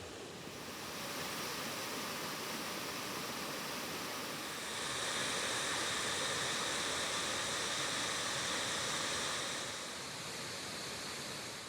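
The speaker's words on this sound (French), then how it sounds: "je suis venu filmer cette cascade." Continuous rushing water of a waterfall on Mount Yoshino, Japan, roars without pause, a dense broadband cascade that swells louder midway and then eases slightly near the end.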